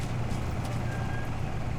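A low, rumbling engine drone of a truck passing nearby in Metal Gear Solid V, steady and fairly loud, with a faint high tone briefly above it.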